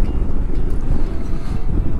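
Strong crosswind buffets a rider on a new motorcycle in town traffic, a loud, continuous low roar rumbling and gusting without letup.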